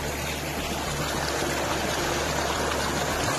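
A natural stream of flowing water in rural Odisha, a steady broadband rush and trickle running continuously and fairly close, with no voices over it.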